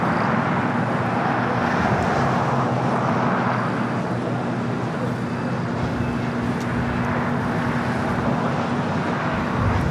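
A heavy Boeing 747 airliner taking off from runway 25 right at LAX, a loud continuous jet roar with a steady low hum, heard from a distance.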